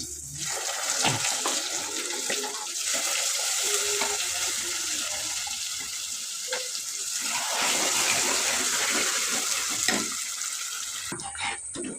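Ginger curry paste made with roasted ground coconut bubbles and simmers in a pan, a steady close hiss with soft popping and occasional stirring scrapes, briefly quieter near the end.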